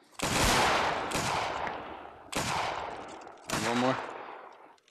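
Rifle volleys in a video game set in the Anglo-Zulu War at Rorke's Drift with the 33rd Regiment of Foot, four loud close massed blasts each trailing a rumbling echo, with a brief spoken line over the last.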